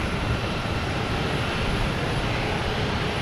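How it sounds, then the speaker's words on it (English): A FedEx Boeing 767 taking off at Boston Logan Airport, heard as a steady, broad jet roar that holds constant and fairly distant throughout, with no talk. "we're getting a FedEx taking off here"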